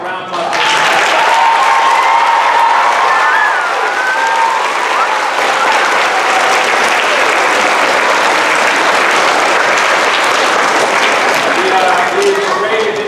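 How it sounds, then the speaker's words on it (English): An audience at a school fourth grade presentation breaks into sustained applause, a dense, loud, even wash of clapping from a crowd that carries on steadily throughout. "Round of applause."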